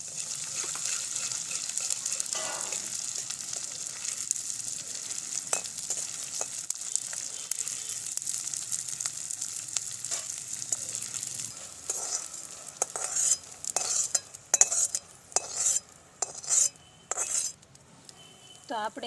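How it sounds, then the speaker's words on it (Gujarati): Edible gum frying in hot ghee for a Gujarati village recipe, a steady crackling sizzle throughout with stirring and scraping clatter of a spoon against the pan growing busier toward the end. "તે જ ઘીમાં આપણે ગુંદર તળી લેવાનો છે."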